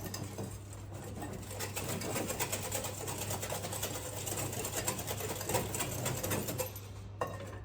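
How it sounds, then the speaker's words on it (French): A kitchen blender mixes almond powder with a steady, close, high motor whir that runs almost unbroken for several seconds before cutting off near the end. "On va mixer tout ça."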